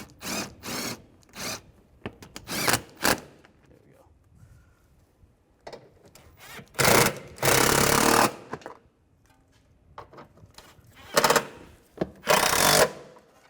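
A power tool tightens headlight bolts on a 2004-2010 BMW X3, buzzing in loud, short bursts with quieter gaps between them, while a voice speaks in the pauses.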